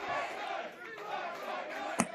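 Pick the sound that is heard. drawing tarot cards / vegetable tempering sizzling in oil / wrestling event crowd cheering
wrestling event crowd cheering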